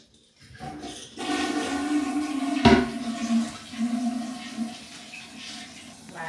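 A pig being bathed and lathered in a tub: running, splashing water with a sharp knock partway through, fairly close, with a little talk.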